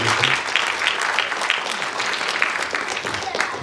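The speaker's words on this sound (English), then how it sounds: "Another round of applause, please." An audience applauds after a spoken recitation at a Bengali New Year cultural event, steady and fairly loud clapping that holds evenly throughout without a break.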